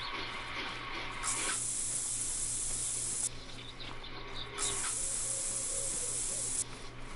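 Spray hiss in a hunting game, three bursts of bright steady hissing, each lasting a couple of seconds, set over quiet outdoor ambience with no talk.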